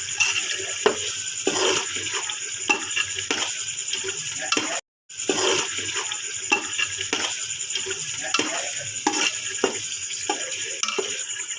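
Spices and pickle are stirred into aloo matar pulao in a pot, giving a soft, steady sizzle with repeated scraping strokes of a spoon against the pot and a brief break partway through.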